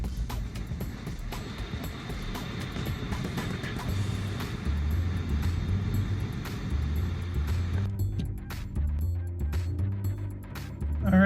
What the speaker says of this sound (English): I'm gonna start driving.